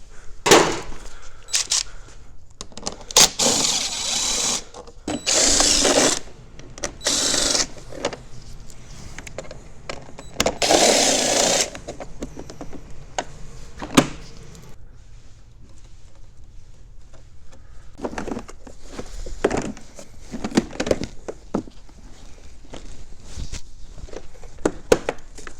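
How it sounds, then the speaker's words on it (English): Tool work removing T25 Torx bolts on a Ski-Doo 850 Turbo snowmobile, with bursts of whirring driver noise and clicks at close range among quieter handling sounds and rustling, no talking. "we're also going to take out this T25 bolt, and then there's a T25 bolt here and here on each side"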